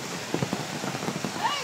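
Rain pattering steadily on umbrellas along the Bukit Timah hiking trail, a dense hiss with scattered drop taps close by and voices faintly mixed in.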